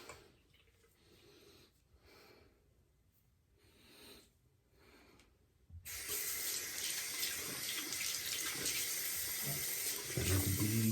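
A tap runs while a razor is rinsed during a wet shave, first as quieter splashing with pauses, then as a loud, steady gush of water that continues to the end.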